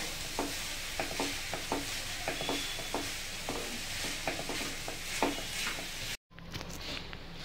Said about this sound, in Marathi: तर आता आपण छान असं मिश्रण एकत्रित करून घेऊया